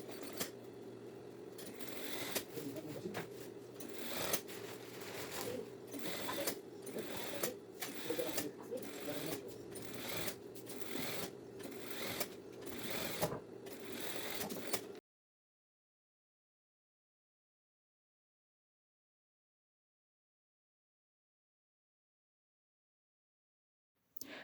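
An overlock sewing machine runs steadily, stitching the back seam of a women's lab coat, a rapid whirring chatter with rhythmic pulses for about fifteen seconds, then stopping abruptly into silence.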